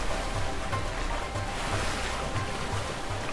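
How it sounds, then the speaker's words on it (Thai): A waterfall in the video game A Way Out gives a constant, loud rushing roar of falling water with a broad, steady hiss that never lets up, with no voices. "Waterfall น้ำตก"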